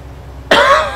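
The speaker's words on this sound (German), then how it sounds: "Schlimme Husten hier." A single sharp, loud cough bursts out near the microphone halfway through, following quiet background hum.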